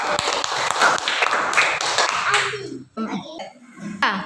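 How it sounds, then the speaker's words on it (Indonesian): Young children in a classroom storytelling session clap hands in a burst of quick, uneven claps, with chatter and adult talk mixed in before it trails off into scattered taps and voices. "tepuk tangan dulu."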